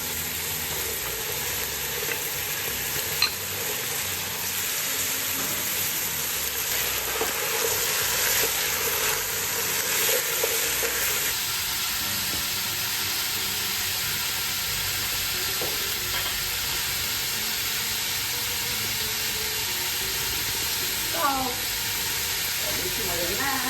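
Celery and carrots sizzle and hiss steadily in a cooking pot for a zucchini leaf stew, with occasional stirring clinks, a continuous close frying texture throughout.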